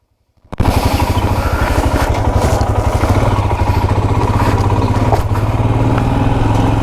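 A motorcycle engine fires up close by and settles into a loud, steady, throbbing run as the rider sets off from a hotel in Jaisalmer, Rajasthan.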